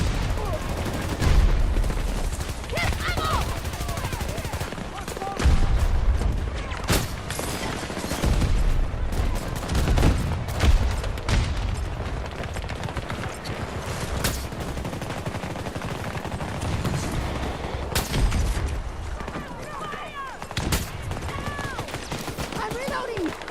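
Continuous gunfire in a shooter video game, with rapid shots and bursts packed densely over more than twenty seconds, loud and near, and occasional talk mixed in.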